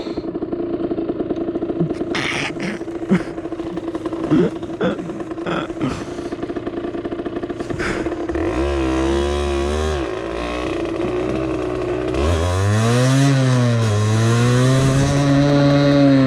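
A Derbi Senda SM 50cc supermoto's two-stroke engine buzzes off-road, idling with clatter at first, then revving up and down in rising and falling sweeps as it rides, loud and close with a voice heard briefly.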